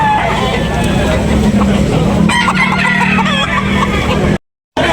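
A rooster and hens clucking and calling nearby at an outdoor chicken market in Tabunok, Talisay, Cebu, over a constant outdoor hum, with a brief drawn-out crow partway through before a sudden cut.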